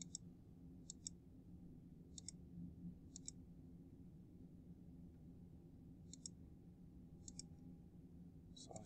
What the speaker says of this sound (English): So I'm just left clicking on my mouse.